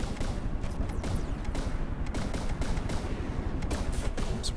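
Naval cannons in a warship video game, including advanced cannons fired from underwater, rattling out as a dense, continuous barrage of overlapping shots at moderate volume with no pauses.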